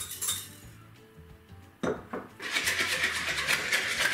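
A single egg whisked in a bowl for apple cake batter, with quick metallic scraping and clinking of utensil against the bowl that builds into continuous brisk beating in the second half, close and fairly loud.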